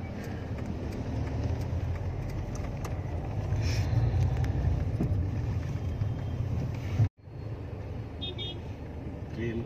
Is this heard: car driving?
yes